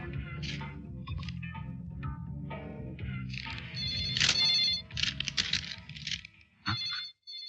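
A telephone rings with a bright repeating electronic ringtone, steady and fairly close, in a quiet room with no talking over it.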